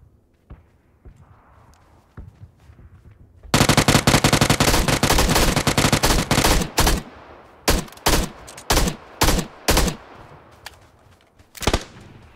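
Gunfire in PUBG: after a quiet stretch with faint steps, a long rapid burst of automatic fire breaks out, then shorter separate bursts and single shots follow, loud and close.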